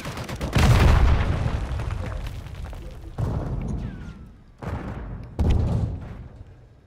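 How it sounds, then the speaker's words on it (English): Video game gunfire booms in several separate heavy bursts, the first loud and lingering, followed by three shorter blasts that fade with echoing tails. "Oh, someone's shooting stuff over there."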